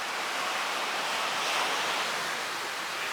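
Ocean waves wash onto a hidden beach beneath a giant cliff at Uluwatu, Bali, a steady broadband roar of surf with no voices, constant and moderately loud throughout.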